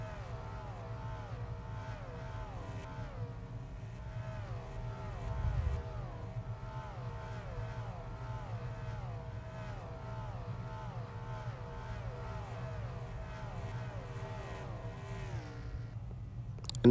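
Race cars at COTA in a racing video game whine continuously at high revs, their pitch sweeping up and down through repeated gear changes, with a low rumble underneath and a brief louder swell midway.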